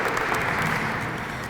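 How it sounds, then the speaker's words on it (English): Applause for council members and honorees at a Women's History Month closing ceremony, a thick, even roar of many people clapping together, steady throughout. "Let's do another round of applause."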